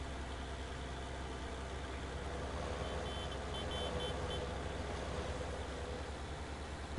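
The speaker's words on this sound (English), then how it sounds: "That sounds like a tractor." A tractor engine in Farming Simulator 19 drones low and steadily at moderate distance, with a faint intermittent beeping midway and no voices.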